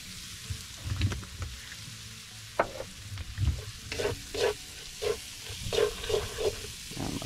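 Ground meat for a homemade spaghetti sauce sizzles steadily in a pan over a cooking fire, with repeated scraping strokes of a spoon stirring it at a brisk, uneven rhythm.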